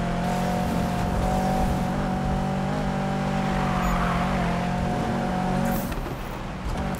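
A race car in Need for Speed roars at a steady high pitch through a lap, with loud engine drone and tire noise. The engine eases off slightly near the end.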